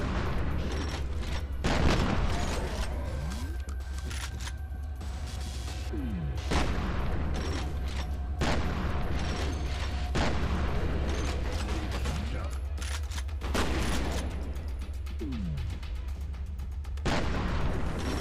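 An explosion in the video game FEAR Perseus Mandate: several booming impacts and crashes spread over the span, set against a constant low rumble and mechanical game ambience, with no speech in the foreground.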